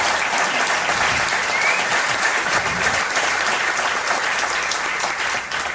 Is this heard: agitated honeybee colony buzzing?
no